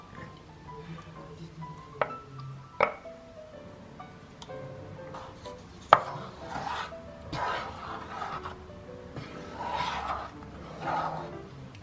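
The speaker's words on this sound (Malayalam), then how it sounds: "നല്ലതുപോലെ നമ്മൾ മിക്സ് ചെയ്ത് കൊടുക്കുക" Ground carrot being stirred into melted sugar for carrot halwa, heard as soft scraping and rubbing strokes of a spoon in a pan with a few sharp clinks against the rim, fairly quiet and close.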